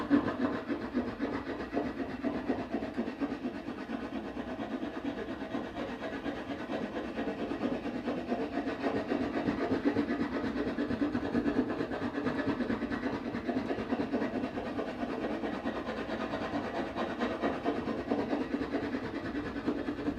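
A hand rasp working a piece of wood clamped in a vise: a continuous, fairly faint scraping texture of repeated strokes at a steady pace, with no talk.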